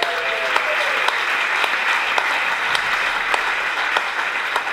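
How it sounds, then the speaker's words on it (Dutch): An audience applauds warmly for Hans van Breukelen, the goalkeeper who won the 1988 European Championship, with dense, steady clapping that lasts throughout. "Maar mag ik een groot applaus van een van mijn helden"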